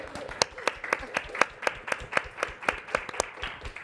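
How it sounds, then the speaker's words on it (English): Audience clapping to thank a panel at a seminar event, a thin, evenly spaced run of sharp claps from a small group, close and fairly loud with no talk. "You can clap now."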